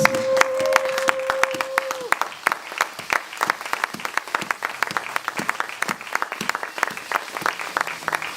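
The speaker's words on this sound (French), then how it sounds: "S'il te plaît, on acclame encore très fort pour la parole de Dieu." Church congregation applauding at a Sunday fasting and prayer service: a sustained burst of dense, close hand clapping, with a voice briefly heard over it at the start.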